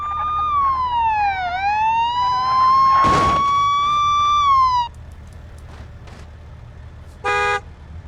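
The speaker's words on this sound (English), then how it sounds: "he's got a siren on" A police siren in the BeamNG driving game wails loudly with a rising and falling tone for several seconds, then cuts off, followed by a brief honk-like tone burst near the end.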